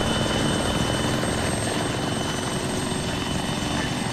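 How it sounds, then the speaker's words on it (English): A loud, steady helicopter rotor drone fills the whole clip, close and constant with a throbbing low-end chop. "No, Jackal, we're getting on the helicopter"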